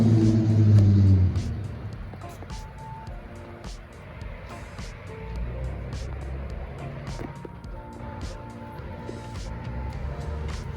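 An Audi 90 Quattro drives along, its engine a steady low rumble heard from inside the car, swelling louder at first before settling into an even drone.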